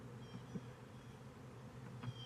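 A low, steady buzzing hum of honey bees swarming close by around a hive, continuous and fairly quiet, with no voices.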